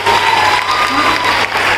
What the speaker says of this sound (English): give a round of applause to the students here